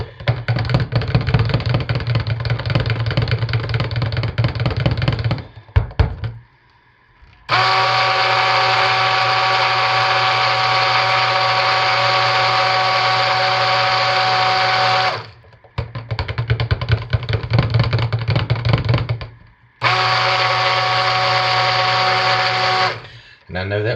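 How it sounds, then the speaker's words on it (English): Stick blender buzzing through cold process soap batter, several bursts of steady motor whine a few seconds each, separated by short pauses, loud and close with the mixing texture under the motor. "give it a good buzz with the stick blender"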